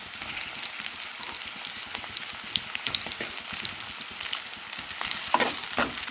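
Green chillies and tomatoes fry in a pan with a steady, close crackling sizzle and scattered sharp pops and spatters, no voices over it.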